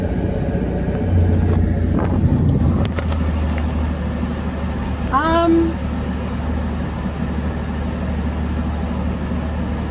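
A car driving on a road gives a steady low engine and road rumble throughout, with a brief squeaky tone partway through and some chatter from inside the vehicle.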